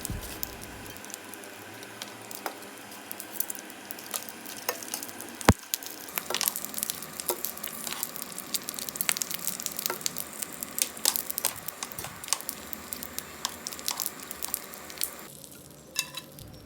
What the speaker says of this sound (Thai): ก็ทอดปลาหมึกแห้งต่อเลยนะคะ